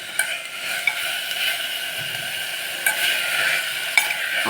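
Mint leaves sautéing in a pan for a millet biryani, a continuous close sizzle with occasional spatula scrapes and taps at irregular intervals, no voices.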